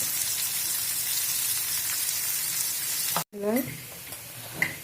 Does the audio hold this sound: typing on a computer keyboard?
no